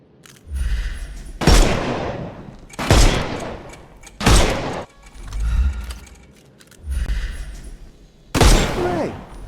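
Gunfire in a Sherlock Holmes video game, fired to shoot the armour off enemies: six loud, sharp blasts, each with a deep thump and a noisy tail, spaced evenly about every one and a half seconds.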